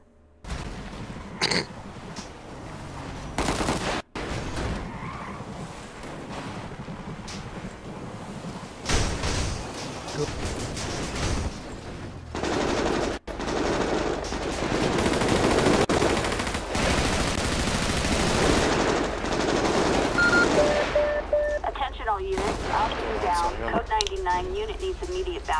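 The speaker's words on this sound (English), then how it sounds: "Automatic shots, automatic shots." Automatic weapons and machine guns fire in a police shootout in a video game, with dense bursts of gunfire running throughout under steady talk and radio-style dispatch chatter.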